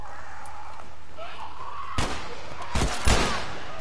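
A few sharp gunshots in a video game crack out near the end, one then a quick pair, loud against a low ambient hum.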